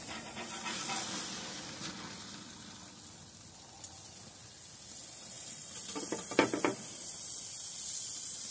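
A stuffed burger patty sizzles on an open grill with the lid up, a soft, steady hiss of fat frying, fairly quiet, with a couple of brief louder crackles near the end and no talk.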